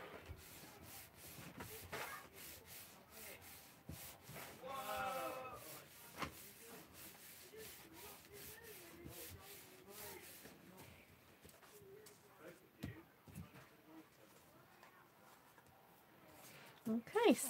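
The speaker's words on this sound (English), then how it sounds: "Give it a good rub." A hand rubs warped watercolour paper to press it flat and stick it down, making faint, soft, scratchy strokes in short repeated bursts, with quiet talking in between.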